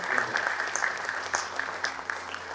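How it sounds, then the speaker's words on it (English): Audience applause at an aviation hall of fame award event, a steady, dense wash of clapping from a crowd filling the whole moment, moderately distant with scattered sharper claps rising above it. "So maybe a round of applause for Bob and Judy."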